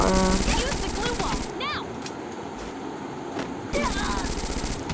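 Bursts of rapid automatic gunfire in the Free Fire battle game, loud at the start and returning near the end, with quieter game sounds between and a voice talking over it.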